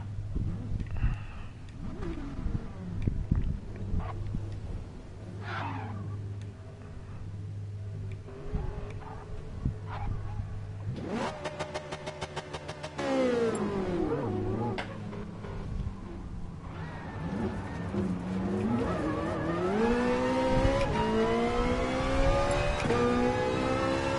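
Race cars including an Enzo Ferrari in the racing game GT Sport, engines droning and revving with rising and falling pitch as cars accelerate and pass, loud and continuous with brief talk.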